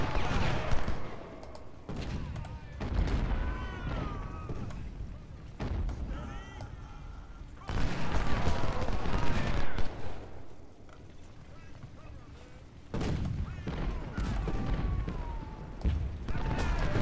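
Ultimate General battle sounds: a dense, rumbling mix of musket volleys and artillery booms in a Civil War strategy game, continuous and swelling in waves, with someone talking over parts of it.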